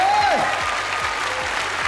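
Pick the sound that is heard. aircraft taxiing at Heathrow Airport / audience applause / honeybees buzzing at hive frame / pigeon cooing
audience applause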